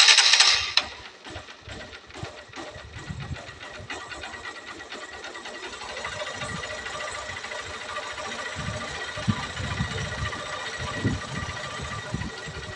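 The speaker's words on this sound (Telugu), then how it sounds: "ఇంజిన్ స్పీడ్ అనేది తగ్గిపోద్ది." A motorbike engine idles unevenly with a fast, rattly chug while its accelerator screw is adjusted, following a brief louder burst at the start, and no one speaks.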